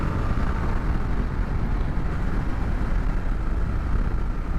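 Kawasaki KLR 650 adventure motorcycle, a 2022 model, engine revved hard while riding, a steady loud low-pitched roar with dense rumble and wind rush throughout, no speech.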